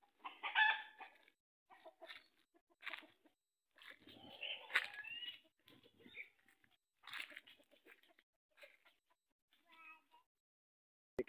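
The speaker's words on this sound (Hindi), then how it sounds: "ये देसी माहौल। मुर्गियाँ, देसी मुर्गियाँ।" Desi chickens in a village setting give scattered clucks and calls amid rural ambience, with a brief crow-like call and a cat's meow also mixed in, all moderately quiet and close.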